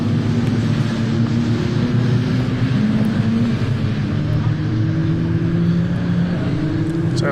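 TCR touring race cars run at Croft circuit, several engines droning and rising together in a sustained, fairly close pass, steady and loud throughout.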